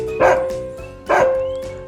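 A dog gives two loud, close barks about a second apart, each one trailing off, over a steady musical tone in a Turkish children's farm song.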